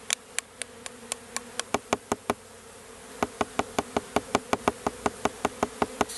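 A swarm of honeybees hums steadily and low, while a rapid, evenly spaced series of sharp taps rings out loudly over the buzz, pausing briefly partway through.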